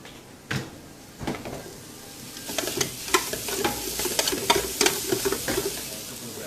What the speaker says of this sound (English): So I'm going to just keep stirring that about for another minute or so.